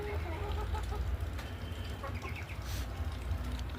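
Chickens cluck and murmur in a netted pen, with several birds calling at once over steady, close background noise and no voices.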